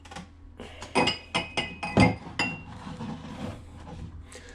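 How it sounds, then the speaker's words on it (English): A drinking glass clinks several times as it is taken from a kitchen cupboard, giving a quick cluster of sharp, close knocks and rattles that fade into quiet room noise. "And now I'm going to get a glass from my cupboard."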